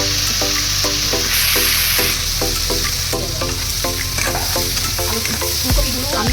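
Cauliflower florets fry in hot oil with a loud, constant sizzle while a spoon stirs them in quick repeated scrapes, a steady rhythmic clatter running through the whole stretch.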